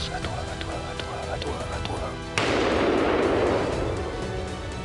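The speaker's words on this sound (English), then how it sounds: "A single shot rang out." A single rifle shot fired at a wild boar during a hunt, one sharp sudden report followed by a lingering wash of noise over a steady background bed.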